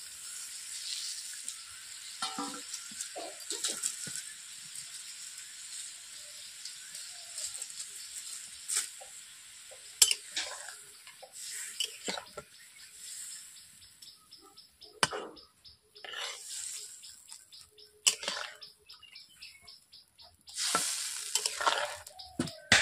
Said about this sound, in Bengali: জল সমেত সর্ষে বাটা দিয়ে দিচ্ছি